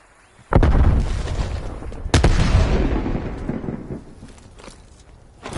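A frag grenade blows up in a PS4 shooter: two loud, close booms a second or so apart, each with a deep rolling rumble that fades slowly, and a quieter thump at the very end.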